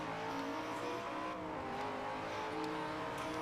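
Racing video game car driving on a road, engine revving steadily with occasional collision thuds as it hits other cars, continuous and loud across the whole stretch with game music mixed in.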